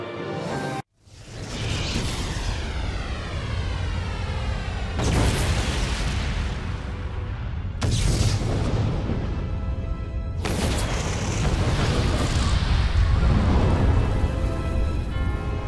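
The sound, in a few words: Eclipse Cannon blast and explosions from Shadow the Hedgehog game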